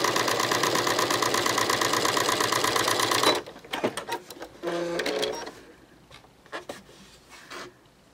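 Close, rapid stitching from a sewing machine with an edge joining foot sewing a tiny seam chatters evenly for about three seconds, then stops, followed by sparse clicks and fabric handling.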